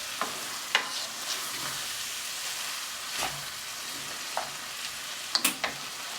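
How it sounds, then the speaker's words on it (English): Cooked mushrooms are stirred into a sizzling cheeseburger casserole mixture in a pan: a soft steady fry with a few sharp spoon knocks and scrapes, close and moderately quiet, with no voices. "I'm just going to add them in. Give it a good stir."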